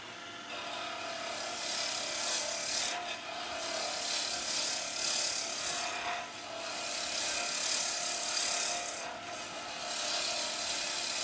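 A wooden pen blank turns on a lathe as the tool cuts with a continuous rasping hiss that swells and eases in a few long passes, close and alone.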